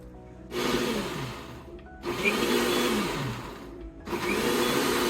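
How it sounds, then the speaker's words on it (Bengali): A kitchen blender whirs through a batch of tomato sauce with vinegar in three loud bursts, each run starting abruptly and grinding steadily before a short pause. "ব্লেন্ডার করে নিচ্ছি"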